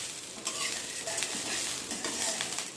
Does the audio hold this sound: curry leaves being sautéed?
yes